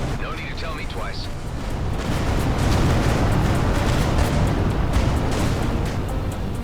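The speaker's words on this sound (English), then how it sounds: "Vacate this area at once. Explosion imminent." A large explosion in the space game Everspace 2, a dense continuous roar and rumble building slightly and holding loud, with brief electronic chirps early on and a voice talking over it.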